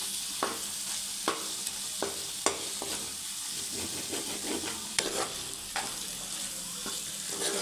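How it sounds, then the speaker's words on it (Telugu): Mutton fries in a pan under a dense, steady sizzle, kept moving so it does not stick, with a spatula clinking against the pan every second or so, close and loud, with no voices. "ఇప్పుడు కొంతసేపు ఇట్లా తిప్పుతూనే ఉండాలండి అడుగంటకుండా."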